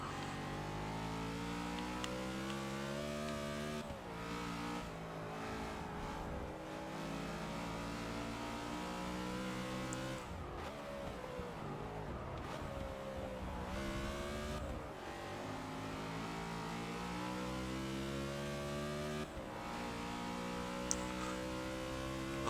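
A NASCAR race car engine in Forza Motorsport 6 revs and accelerates through repeated rising and falling sweeps, loud and steady for the whole stretch, with no talking.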